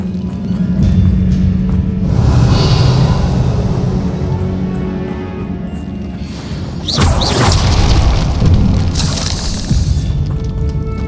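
A Confringo blasting spell explodes in Hogwarts Legacy, a loud booming blast with crashing debris and a whooshing burst, rising again mid-clip over a dense, rumbling game backdrop.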